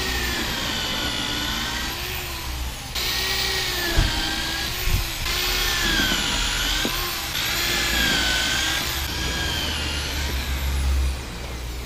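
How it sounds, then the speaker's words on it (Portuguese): A power tool drives screws into a mud flap bracket welded onto a truck chassis, whining steadily and loudly in long sustained bursts with brief pauses and a few clanks between them. "Eles só estão parafusando o suporte da badana mesmo."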